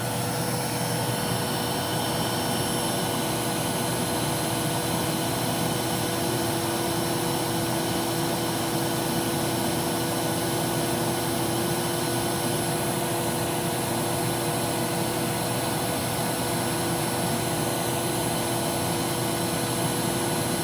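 Shark Apex AX952 vacuum cleaner running in thick carpet mode, a loud, steady motor whine and airflow roar that holds unchanged throughout with no talking.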